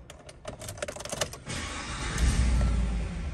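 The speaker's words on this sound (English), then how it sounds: "Starting up the truck" A 2017 Chevrolet Silverado 1500 LTZ truck with about 76,000 miles cranks briefly, then its engine catches and settles into a steady, close idle rumble.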